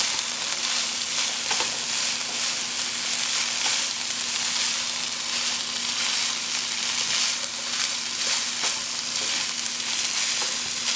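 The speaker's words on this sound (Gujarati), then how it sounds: "એક વખત ચિકન અંદર નાખી દઈશું, પછી એને પણ આપણે આમ જરાક ફાઇન રીતે તળશું કે જરાક ડુંગળી સાથે" Chicken fries with onion in a pan, giving a continuous, close crackling sizzle with occasional stirring clicks, steady and even throughout.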